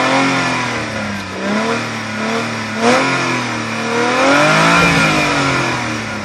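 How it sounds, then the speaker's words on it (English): A Hyundai Tiburon's engine is revved through the exhaust, with several rising and falling throttle blips and a longer climbing rev near the end, loud and close with no talking. "now push on the gas"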